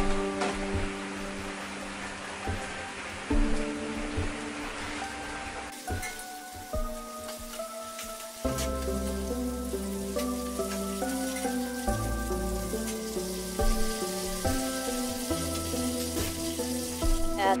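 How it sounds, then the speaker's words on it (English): Chopped potatoes and capers fry in hot oil for a cauliflower gratin, giving a steady, close rain-like sizzle that runs continuously under soft background music. "Add the chopped potatoes and capers into the oil to fry."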